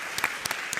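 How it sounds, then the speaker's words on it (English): A crowd at a maker event applauds its hosts in a short burst of many hands clapping, with a few sharper individual claps standing out close by. "Let's give them a round of applause."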